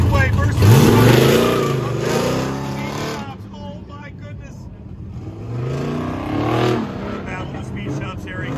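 Pro X class drag cars, including a 1964 Corvette, rev at the line during the Goodguys duel in Des Moines, with loud rising engine sweeps early and again near the end. A commentator talks over the engines.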